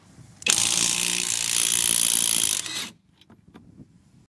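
A Ferrex Pro brushless impact wrench hammers at a 19 mm trailer hitch nut, a loud, close, continuous rattling burst of about two seconds that stops, followed by faint handling clicks.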